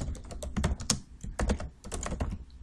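Rapid typing on a computer keyboard, close and clear, with steady clacking keystrokes in quick uneven bursts and no voices.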